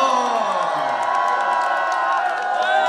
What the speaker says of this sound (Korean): 함성 한번 질러주세요.